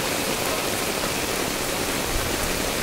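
Heavy rain pours down in a village as a steady, loud broadband hiss that stays even from start to finish with no voices over it.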